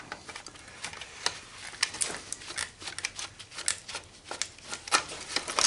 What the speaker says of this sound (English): I might have to cut these wires.